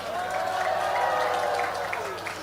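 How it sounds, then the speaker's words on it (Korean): An outdoor rally crowd claps and cheers in a short, dense burst of applause for General Paik Sun-yup, sustained and fairly loud. "백선엽 장군에 대해서도 큰 박수 한번 해주시기 바랍니다"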